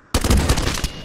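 A single loud, close gunshot in the VR shooter Pavlov VR, a sharp crack followed by a short rattling tail.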